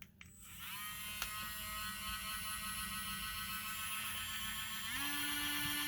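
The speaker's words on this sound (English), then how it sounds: "If your rotary tool has variable speeds, go ahead and set it to the maximum speed while you're cutting." A rotary tool at maximum speed cuts a scrap guitar pick blank held in a vise, giving a steady high-pitched whine that holds evenly, then shifts upward in pitch near the end, close and continuous with no talk.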